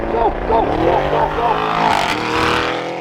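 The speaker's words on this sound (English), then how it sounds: "This Urus is so loud!" A Lamborghini Urus SUV engine revs up and down in loud, rising surges, with a brief voice cutting in over the roar.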